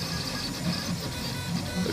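A 3D printer runs steadily, controlled remotely through OctoPrint on a Raspberry Pi, giving a continuous whirring hum with rhythmic stepper-motor tones and no speech.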